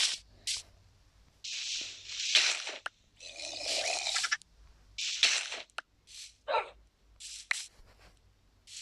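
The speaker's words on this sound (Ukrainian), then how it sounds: "Собака гавкає, звісно, хто ж би сумнівався." A Minecraft dog barks in a taiga forest biome, giving a series of sharp, close barks in uneven bursts over several seconds with short gaps between them, with no talking.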